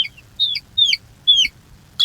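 A chicken clucks four times in a steady rhythm, close and clear, over a soft low rumble.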